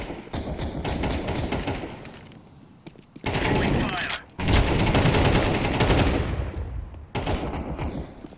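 Rapid gunfire rattles through a video game shootout in dense, loud sustained bursts broken by brief pauses, while players talk over the shooting.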